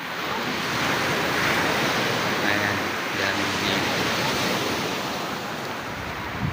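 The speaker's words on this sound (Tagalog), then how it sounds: "ayan ang dagat dito maalon no laki ng alon" Steady roar of rough surf with big waves washing onto a fine-sand beach in Dulag, Leyte, Philippines, with wind noise buffeting the microphone and a brief voice speaking Filipino over it.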